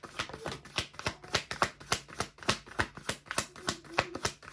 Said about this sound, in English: I think this will be the last shuffle I do with the Buffy deck